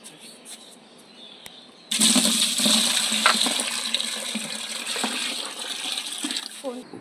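Formalin-mixed water pours onto casing soil in a steady, splashing gush that starts abruptly and runs on at moderate loudness, with a quieter background hiss before it begins.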